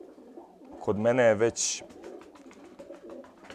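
A pigeon in a pigeon loft gives a short throaty coo close by, over a quiet room, with someone speaking before and after it.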